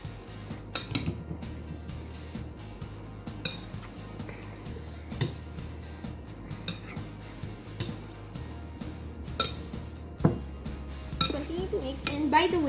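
Tapa ingredients are mixed in a bowl with a utensil, making steady clinks and scrapes in an irregular rhythm close by, with a faint voice in the background.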